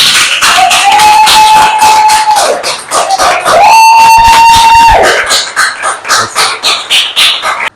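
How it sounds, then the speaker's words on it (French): A church congregation applauds and cheers for the Lord during a prison-release testimony service, with steady loud clapping and high sustained whistles or cries rising over it, then clapping continues in uneven waves. "je veux qu'on acclame le Seigneur d'abord"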